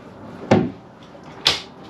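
A storage drawer on a 2023 Albemarle 27DC boat opens and shuts: two sharp, close wooden-sounding clunks about a second apart, with no talking.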